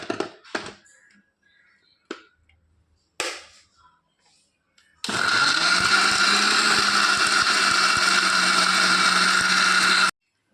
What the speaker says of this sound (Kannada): ಮತ್ತು ಮಿಕ್ಸಿಯಲ್ಲಿ ಗ್ರೈಂಡ್ ಮಾಡುವ